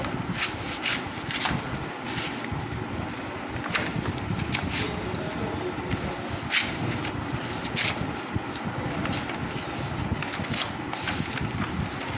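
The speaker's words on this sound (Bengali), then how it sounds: "এই যে এটা এরকমভাবে এই জায়গাটাতে সেলাই করে নিলে এটা হয়ে গেল একটা খাতার মতো দেখতে" Paper sheets being stitched together by hand into a notebook for a school project, giving a steady rubbing, scratchy friction of thread and paper with small taps, close and continuous without talk.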